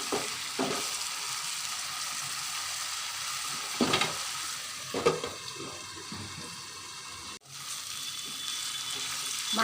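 Catfish cooking in a pan gives a hissing frying sizzle, steady and close, with a few stirring scrapes and clatters and a brief dip partway through.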